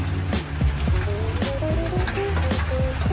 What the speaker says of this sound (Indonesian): Ini tapi agak hujan ya guys.